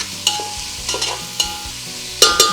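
A loud close sizzle of spices hitting hot oil for a tempering, broken by several sharp metallic clinks of a utensil against the pan.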